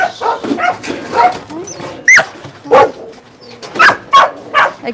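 Several dogs on a South Korean dog meat farm bark repeatedly and loudly in irregular overlapping bursts, close by, with occasional whimpers and no talk over them.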